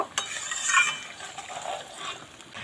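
Chicken curry with potatoes is stirred and fried in a pan without water, with soft scraping and wet stirring sounds and a light sizzle in short uneven bursts, close by.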